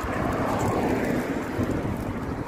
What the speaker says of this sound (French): Il y a un petit peu de vent, il fait frais.